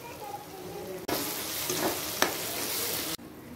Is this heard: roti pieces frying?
yes